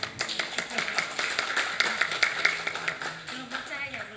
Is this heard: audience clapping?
yes